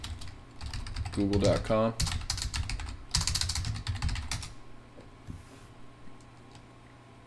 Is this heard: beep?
no